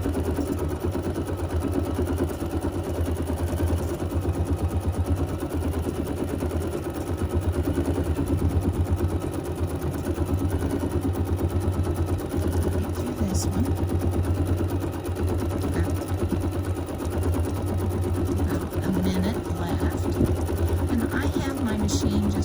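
A sewing machine with an embroidery module stitches an edge-to-edge quilt design at just over half speed, a steady rapid mechanical whir and needle chatter running throughout, with a voice talking over it.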